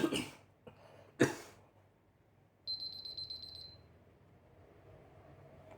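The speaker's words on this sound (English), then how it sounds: "Beep alarm." A Nokia Lumia 635 beep alarm tone sounds as a rapid, high-pitched pulsing beep for about a second. It comes after a couple of sharp coughs, over a low background hiss.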